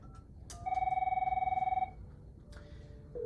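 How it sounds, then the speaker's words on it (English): A telephone rings for an incoming call, one loud trilling electronic ring lasting over a second, preceded and followed by soft clicks and a quieter tone, with no talking. "your phone will ring, you will see the number and you will see the name"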